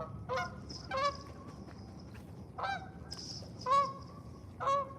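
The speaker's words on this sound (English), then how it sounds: "I'm just saying the goose is up on top over there, standing around." A goose honks several times in short nasal bursts, spaced apart over a quiet outdoor background near an urban trout stream, with no talking.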